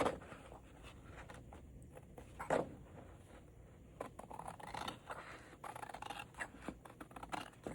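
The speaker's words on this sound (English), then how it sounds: "I'll just use my scissors." Quiet, repeated snips and crisp cutting strokes of scissors through paper, irregular in rhythm, close by with light rustling between cuts.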